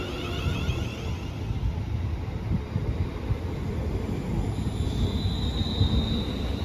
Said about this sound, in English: here's the 1610 London Northwestern Railway service from Birmingham New Street to London Euston